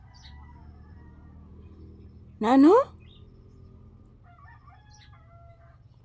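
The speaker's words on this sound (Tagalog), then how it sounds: "Mayroon na namang ibon na naglalaro sa bubong" A single short, loud bird call, rising and harsh like a fowl's cry, comes from birds on a roof. Quiet room tone surrounds it, with brief faint speech near the end.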